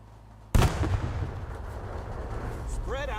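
A grenade detonates in the shooter game Dagger Directive, one sudden loud boom that rolls off into a long rumbling decay, with a brief rising game sound near the end.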